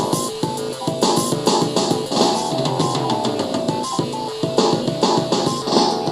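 A musical passage, processed through the Acceleration2 audio plugin, plays as a dense, bright, busy passage with crowded layered tones and steady loudness, with no talk.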